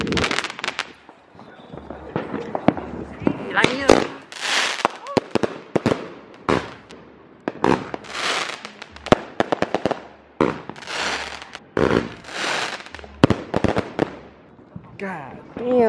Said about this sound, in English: this is the next firework